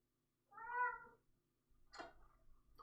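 A house cat gives one clear, drawn-out meow up close, then a few shorter rustling or vocal sounds follow, with no one talking.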